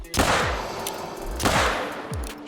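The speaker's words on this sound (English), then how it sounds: "So I'ma shoot him using the 454 Rhino." A .454 Rhino handgun is fired at a crocodile in the hunting video game theHunter: Call of the Wild, with two loud, booming shots about a second apart, each followed by a rolling echo.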